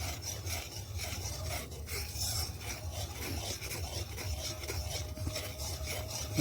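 Homemade ghee is stirred in a pan with a steady rasping scrape, continuous and close, with a low bubbling hum underneath and no talking.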